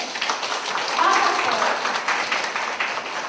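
Audience applause at a Christian spiritual gathering, a dense continuous wash of clapping with voices mixed in throughout.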